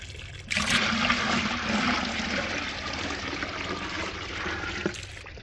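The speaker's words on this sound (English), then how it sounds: "just have to add water with the bucket" Water poured from a bucket into a gold prospecting sluice gushes in a sudden rush, splashing and flowing steadily for several seconds before cutting off, close by with no talking.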